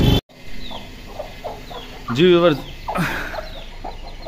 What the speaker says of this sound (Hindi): ये मुर्गी ले आए हैं, साथ में इसके चार अदर बच्चे भी मिले हैं गिफ्ट में